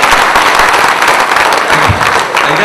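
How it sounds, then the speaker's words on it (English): Loud, dense applause from a conference audience during a keynote, continuous rapid clapping close by with crowd noise underneath for the full stretch. "Give him a round of applause"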